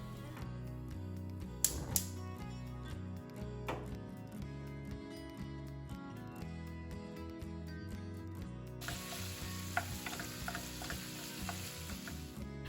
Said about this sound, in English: I'm going to heat up my pans and get the sausage browning.